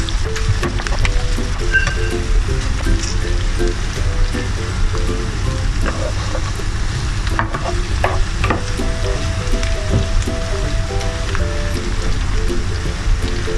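Garlic sizzles and crackles steadily in a hot pan for home-style fried rice, a loud, continuous frying hiss with occasional sharper pops and faint utensil knocks. No one speaks.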